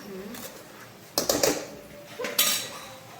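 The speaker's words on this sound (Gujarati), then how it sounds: "ગરમ ગરમ મસાલો હવે એને કમ્પ્લીટલી મિક્સ કરી દેવાનું" A spoon scrapes and clanks against a metal pot while garam masala is stirred into a cooking dish, with a few sharp bursts of clatter in quick succession.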